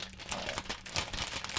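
Gift-wrapping paper crinkling and crackling around a wrapped present, a steady close run of papery rustles and crunches with no talk.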